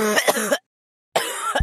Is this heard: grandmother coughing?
yes